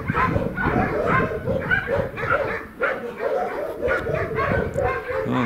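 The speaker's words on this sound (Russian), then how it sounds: "Тут они постоянно на всех нападают, лают эти мелкие." Several small, aggressive dogs bark and yap nonstop outdoors, a dense run of high, overlapping yips and whines at close range, with someone talking intermittently underneath.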